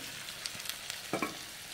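Garlic crackles in hot oil for a tempering (phodni) with turmeric and green chili, a steady close sizzle with a few sharp pops and a brief stir partway through.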